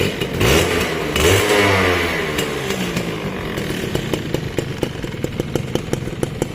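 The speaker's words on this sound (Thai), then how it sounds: "คันนี้เสียงเครื่องออกนิดหน่อย" A slightly worn Suzuki Crystal 110 motorcycle engine revs up briefly, then drops back to a ticking, uneven idle, close by with no talking.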